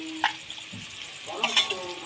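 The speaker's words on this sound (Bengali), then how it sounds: "আলুটা ভাজা হোক" Potato pieces seasoned with salt and turmeric fry in a pan during mutton curry preparation, giving a steady soft sizzle with a few sharper stirring scrapes and clicks.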